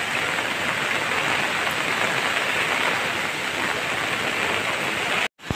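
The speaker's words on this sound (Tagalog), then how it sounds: "pumasok tayo dito kasi lumakas na may ulan" Heavy rain pours during Typhoon Ulysses in a flooded subdivision, a loud, dense, unbroken hiss. It stops abruptly just before the end.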